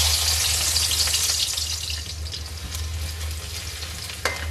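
Finely chopped garlic sizzles in hot oil in a home kitchen, a steady close frying hiss with stirring scrapes, continuous for several seconds with a brief sharp clink near the end.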